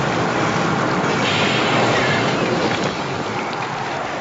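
Steady rain pours down in a movie scene, a dense, continuous wash of falling water that holds loud and even throughout, with no voices over it.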